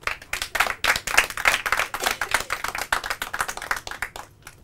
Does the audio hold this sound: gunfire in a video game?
no